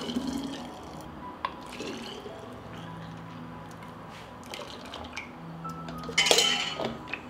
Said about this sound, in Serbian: I sada ovako vreo sok sipamo u flaše.